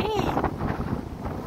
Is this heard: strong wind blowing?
yes